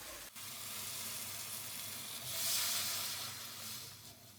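Tomato paste sizzles and fries in hot oil for a chicken liver masala, a steady close hiss that swells louder midway through, with no voices.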